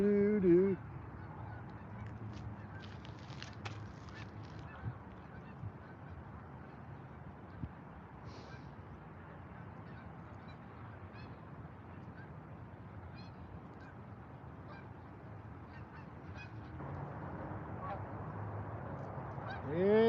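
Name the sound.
geese honking while flying south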